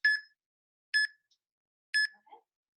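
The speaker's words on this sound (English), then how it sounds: "I got 20 seconds on my Tabata timer here" Tabata interval timer sounding three short, sharp electronic beeps spaced about a second apart during a HIIT jumping-jack workout, clear and fairly close with no talking over it.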